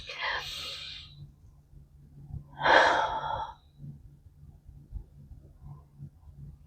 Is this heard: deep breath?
yes